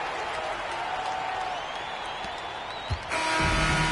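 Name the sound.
crowd cheering in the video game NBA 2K25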